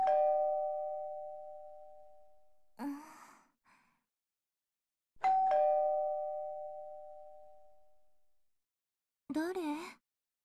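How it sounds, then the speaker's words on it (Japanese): An intercom doorbell rings twice inside the video game Escape from Hotel Izanami, each ring a clean electronic two-tone chime that rings out and decays. Short breathy voice sounds follow each chime, otherwise quiet and isolated. "私は家のインターホンが鳴る音で目が覚めました。"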